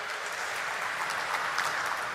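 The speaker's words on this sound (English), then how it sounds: "So have a great round of applause for our team Dharmaj." An audience claps steadily throughout at a corporate stock exchange listing ceremony, a dense, even wash of applause with no speech over it.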